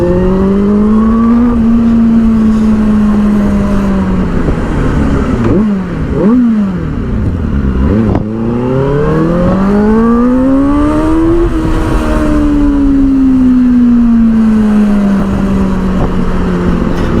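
A loud Benelli 600i motorcycle exhaust revs and drones steadily, pitch climbing and falling through several throttle blips and sweeps, with no voices.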